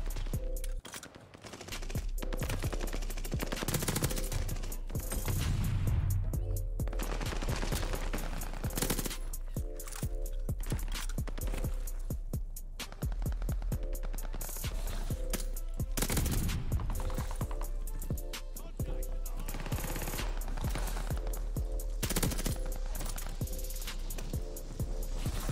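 Type 100 submachine gun fire in Call of Duty: Vanguard: long rapid automatic bursts, loud and close, broken by short pauses, with other game sounds underneath.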